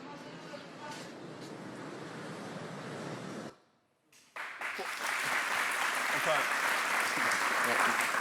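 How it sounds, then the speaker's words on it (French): A studio audience on a French-language TV talk show breaks into broad applause. The clapping cuts out briefly partway through, then returns louder, and voices mix in with it. "Je n'ai pas compris encore les applaudissements"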